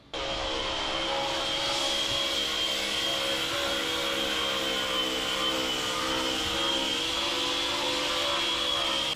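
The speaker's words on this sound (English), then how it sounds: "I'm just taking the majority of the layers off with the grinder." An angle grinder strips layers from a pitted fiberglass sailboat hull with a loud, steady, high-pitched whine and gritty abrasive hiss that holds without a break, close by and with no talking.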